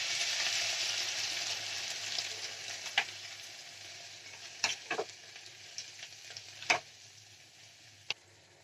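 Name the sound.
vegetables frying as soaked dal is added to the pan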